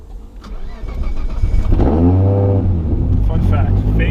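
An R32 Nissan Skyline GTR engine rises from idle into a loud, close rev that climbs and falls, then keeps a steady throaty growl while people talk over it.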